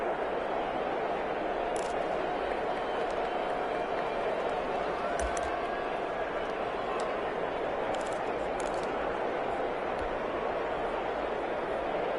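Stadium crowd inside the Dome in the Madden NFL football video game, a steady, dense roar that holds at an even level throughout while commentators talk over it.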